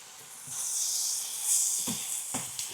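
A cheeseburger patty sizzles loudly on an overheated griddle, a bright continuous hiss close by, with a few soft bumps and clicks near the end.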